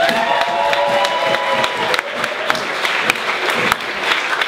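Concert audience in a Philadelphia venue applauding and cheering for a band and their new LP, a dense steady wash of clapping with scattered whoops, loud and close throughout.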